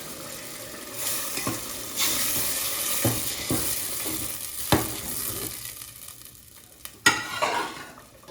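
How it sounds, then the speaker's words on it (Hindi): Hot oil sizzling and spitting as dal is tempered and stirred in a pan, with occasional sharp clinks of a utensil against metal; no voices. "गुरुजी ने दाल में तड़का लगा दिया है।"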